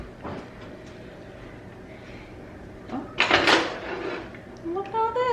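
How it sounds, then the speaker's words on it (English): A kitchen utensil drawer slides open with a loud rattling scrape of metal cutlery lasting about a second, and a voice talks before and after it. "when I open up my drawer over here, so here is my utensil drawer"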